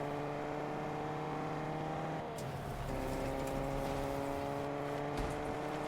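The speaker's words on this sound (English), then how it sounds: "They take this truck." A truck driving in the video game Fortnite, its engine giving a steady droning hum with a brief shift in pitch midway, plus a few faint clicks over the top.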